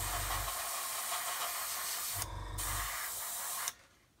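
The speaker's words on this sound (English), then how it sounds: "Wherever the aerosol missed, look up in here, just going to get some paint in there." Aerosol spray paint hisses steadily onto a plastic scale model aircraft kit, a close, continuous spray with brief breaks between bursts before it cuts off near the end.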